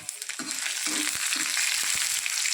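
Dry red chillies and tempering spices fry in a spoonful of hot oil in a kadai, a close crackling sizzle with quick bursts and stirring scrapes.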